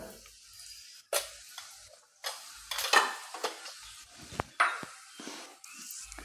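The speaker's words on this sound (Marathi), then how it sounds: "आता तेल गरम झालेलं आहे त्याच्यामध्ये थोडंसं चिमूटभर हिंग घालून घेणार आहे आणि एक छोटा चमचा जिरं" A pinch of asafoetida and a spoon of cumin seeds hit hot oil for pav bhaji, giving a light sizzle broken by several clinks and scrapes of a spoon against the pan.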